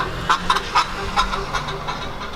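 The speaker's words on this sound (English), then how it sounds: "That car sounds like a duck." A series of short, nasal, quacking honks from a Nissan Juke repeats irregularly, fairly close, over a steady low engine rumble.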